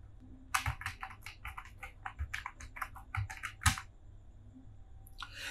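Irregular clusters of crisp clicks from a computer keyboard being typed on, close and fairly quiet, with brief pauses between bursts and no talking.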